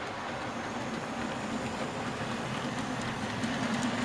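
Model railway train hauling fuel tanker wagons rolls past in a loft layout, giving a steady, continuous rumble with faint rail clatter that swells slightly toward the end, with no talking.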